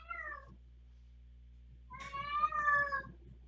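A domestic cat meows, one short call followed after a pause by a longer, louder drawn-out meow, close by over a low steady background hum.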